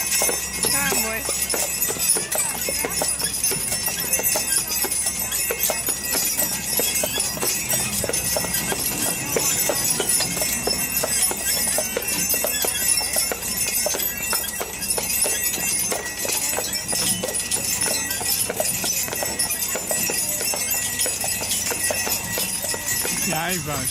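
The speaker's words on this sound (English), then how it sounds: "I've seen the Budweiser Clydesdales, and man, those are big horses" Draft horses at a winter fest clip-clop steadily, hooves striking in a continuous close rhythm amid bells and outdoor bustle, with people talking throughout.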